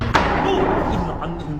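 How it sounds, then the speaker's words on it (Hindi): A door slammed shut hard behind someone inside a house, a single sharp bang near the start followed by a dull room rumble with faint voices and movement. "उसके पीछे का दरवाजा किसी ने जोर से बंद किया था।"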